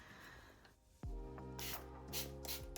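A spray bottle mists Super Growth Elixir fertilizer from Urban Gardener onto the leaves of a Hoya houseplant, giving several short, close hissing bursts over a steady low hum.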